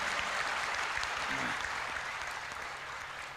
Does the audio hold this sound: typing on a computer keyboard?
no